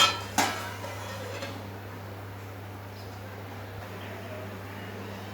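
A lid set onto a cooking pot of soya beans, sweet corn and rice, one sharp metallic clank near the start, followed by a low steady hum of a gas flame.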